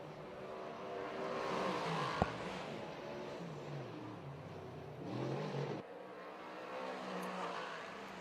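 Race car engine on the dirt oval at Orange County Fair Speedway, the number 97 car coming out of turn two, droning and surging at moderate distance with a rising and falling roar and no clear talk.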